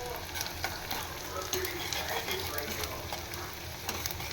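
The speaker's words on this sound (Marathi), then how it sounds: "छान ते तेलावर परतली पण जाईल आणि शिजेल पण." Beans and chopped vegetables sauté in hot oil, giving a steady, close crackling sizzle with scattered stirring scrapes throughout.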